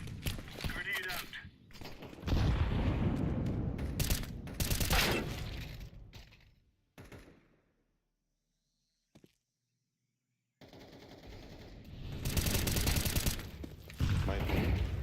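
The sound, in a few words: grenades and gunfire in a video game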